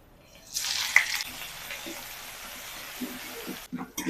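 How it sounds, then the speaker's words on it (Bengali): Ginger paste, chopped green chili and black cumin seeds hit hot oil with a loud sizzling burst that settles into a softer crackle, with someone speaking over it. "আদা কাঁচা লঙ্কাটাকে ভেজে নিয়েছি"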